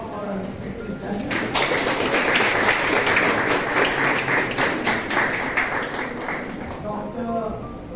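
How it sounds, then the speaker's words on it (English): An audience at a corporate soft-skills group discussion training event claps for the judges; dense applause swells in after a second, holds steady, then thins out near the end, with voices mixed in. "please give a huge round of applause for our respected judges"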